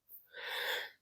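A single sneeze, a quick sharp intake followed by a loud bursting exhale lasting about a second, close up and alone.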